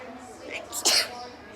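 A single sharp human sneeze sounds indoors, brief and fairly close, set against quiet background murmur.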